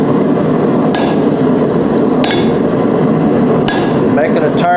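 Blacksmith forging a decorative leaf from a railroad spike, flat face of the hammer striking hot steel on the anvil: three sharp metallic blows about a second apart over a constant background roar.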